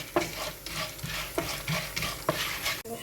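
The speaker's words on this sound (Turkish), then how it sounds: "Böyle kavuruyoruz." A soup base for yayla soup with cut noodles is sautéed in a pan, giving a steady sizzle with rhythmic scraping strokes of a spoon stirring about every half second, close and clear.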